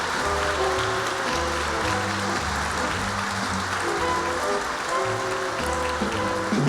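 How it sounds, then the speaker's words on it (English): An audience at a fashion show gives the models a steady round of applause, with continuous dense clapping over background music and no talking. "Let's give them one last round of applause."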